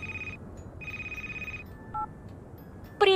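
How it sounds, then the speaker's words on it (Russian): Telephone ringing in the video game Crimson Snow: two sustained electronic ring bursts with a pause between, then a few brief softer beeps, ending with a short sharp click-like sound. "телефончик звонит. Берем."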